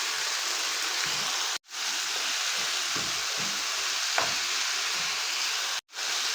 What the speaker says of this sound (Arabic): أنا بدي أوصل لمرحلة تحمير الدجاج مش سلق الدجاج الصدور